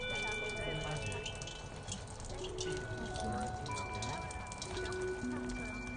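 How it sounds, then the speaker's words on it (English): Water poured through a colander in a homemade rain box pelts down as a dense patter of drips like rainfall, steady and close, with tonal hums and background noise underneath. "Pour the water through the colander like this. And look, it's got rain."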